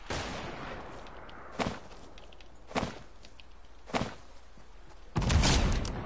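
Pistol gunfire in the Fortnite video game: three separate sharp shots spaced about a second apart over low background noise, followed by a louder burst of noise at the end.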